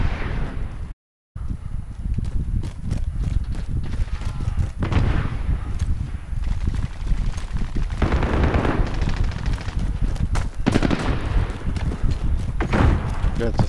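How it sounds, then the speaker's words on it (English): Rapid gunfire in Call of Duty, with dense automatic bursts and heavy thumping shots running nearly without a break. A brief drop to silence comes near the start, and game noise stays loud throughout. "Sound like gunfire."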